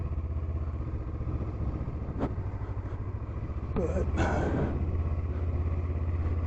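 A motorcycle engine, with its ABS light on, idles at a high, steady rumble on a windy stretch of Oregon's north coast, with wind noise throughout and a brief spoken word.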